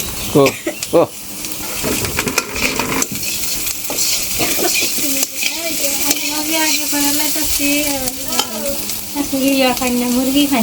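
Potatoes frying in a pan in a Bangladeshi village kitchen, a steady close sizzle with stirring scrapes throughout, while people talk over it.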